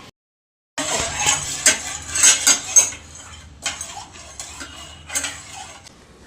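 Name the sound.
stirring and mixing food in a pot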